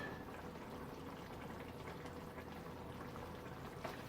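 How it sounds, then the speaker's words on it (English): Keto chili bubbling to a gentle boil in a pot on the stove, a steady low burble with soft popping, close and continuous throughout. "Let it come to a gentle boil."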